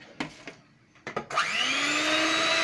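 An electric mixer whipping half a measure of cold milk into whipped cream for homemade ice cream, starting after a few clunks and then running as a loud, steady, high whine.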